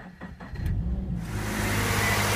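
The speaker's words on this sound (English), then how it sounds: "as you can hear, the boxer's engine is now running" A Toyota GT86 with an FA20 boxer engine cranks and fires up after a jump start from a flat battery, the starter clatter giving way to a steady, loud, close idle.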